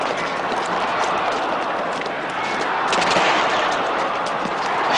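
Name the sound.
gunshots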